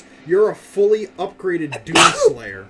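A single sharp sneeze bursts out near the end, in the middle of someone talking excitedly during a game.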